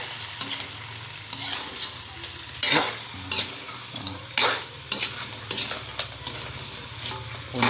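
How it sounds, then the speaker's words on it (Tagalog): Half a kilo of split crab (alimasag) sautés in a pan for a crab and patola dish, giving a loud, steady sizzle broken by repeated scraping stirs. No one speaks. "Ginisa ko rin po yung alimasag."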